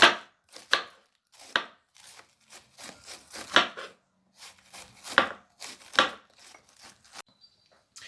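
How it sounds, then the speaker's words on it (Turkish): A knife chops through cabbage on a board in a run of crisp, uneven strokes, some quick pairs, with short pauses between bursts. "gördüğünüz üzere ince ince doğradım"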